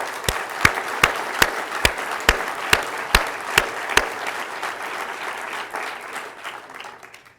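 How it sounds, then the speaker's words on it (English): A crowd applauds Senator Pat Roberts at a Kansas political gathering, steady clapping filling the room with several loud, evenly spaced claps standing out near the microphone before the applause thins out. "So I ask you to join me in a round of applause for Senator Pat Roberts."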